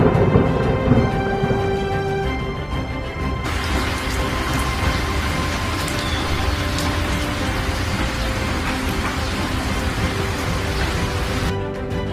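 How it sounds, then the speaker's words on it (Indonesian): Steady rain hisses evenly throughout, a dense wash of drops with no voices, the texture shifting slightly partway through but staying continuous. "Suara hujan."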